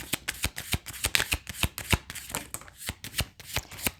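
Rapid, crisp card snaps and riffles repeat in a quick, irregular rhythm, close and clear with no voices.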